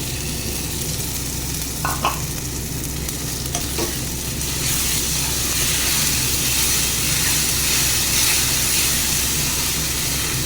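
Tomato puree frying with cooked masala in a pan on low gas heat for chicken kosha, a steady close sizzle with a few scraping stirs early on, growing slightly louder and hissier over the second half.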